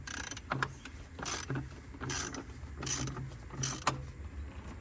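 A hand ratchet loosens a bolt on a 2006 Dodge Dakota 4.7L quad cab, giving repeated bursts of sharp clicking strokes in an uneven rhythm, close and clear with no talking.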